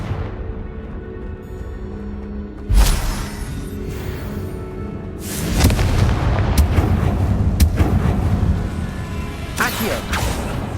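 Confringo fire spells exploding in Hogwarts Legacy combat, several loud booming blasts with crackling bursts over a rumbling game backdrop, coming in separate hits with short pauses between them.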